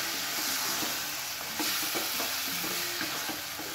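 Marinated ghol fish bone pieces sizzle steadily in hot tempering oil with browned garlic, a continuous dense crackle with occasional stirring clinks, close and fairly loud throughout.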